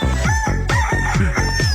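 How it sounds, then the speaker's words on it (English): A chicken sound effect of rooster crowing mixed with clucking, several loud, repeated calls in quick succession, close and clear with no talk. "A chicken."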